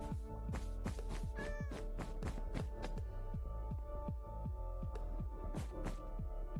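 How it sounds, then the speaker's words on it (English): Cat meowing in the DC73 Java Server video game, a long series of repeated, evenly paced meows, clear and fairly close, over a faint steady hum. "Let's see if we can find the cat."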